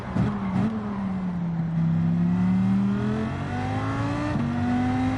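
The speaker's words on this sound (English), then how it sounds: "God, I love the sound of this car." Car engine in a racing video game heard from the bonnet cam, a steady droning rev that climbs in pitch through several gear shifts, loud and continuous with no talk.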